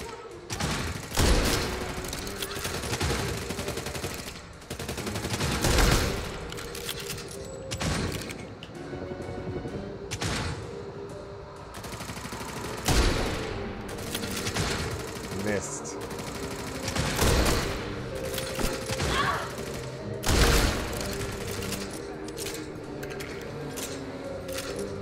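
Gunfire from the video game Redfall rings out in repeated sharp bursts and single shots, several spaced loud cracks over a busy game soundscape across the whole stretch.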